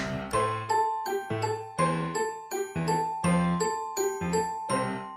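A melodic ding-dong bell chime repeating in a steady rhythm, about ten bright tones ringing clearly and close with no voices.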